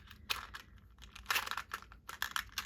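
A small pen pouch crinkles in several quick bursts as a vintage fountain pen nib is pulled out, close and fairly quiet, with brief pauses between the rustles.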